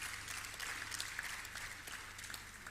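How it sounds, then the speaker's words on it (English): Audience applauding at the Cleanshow Africa conference, a fairly faint, steady patter of clapping heard from a distance over a low background hum. "Please give them a round of applause."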